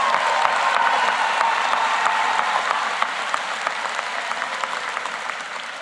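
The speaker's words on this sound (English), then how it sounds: "Yeah, that deserves a round of applause." A large commencement crowd applauds the graduating class of 2026 at Edison High School, a dense steady wash of clapping that holds evenly from start to finish with no talk over it.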